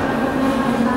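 A train rumbles steadily through Gdańsk main railway station, a continuous low roar with a faint tonal hum, heard close in a busy hall.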